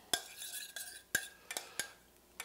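A utensil clinks against a dish in sharp, separate taps while a balsamic reduction is stirred, a handful of crisp metallic knocks at close range with quiet gaps between them.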